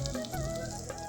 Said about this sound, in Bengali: এই যে পেঁয়াজটা লাল করে নিচ্ছি আমি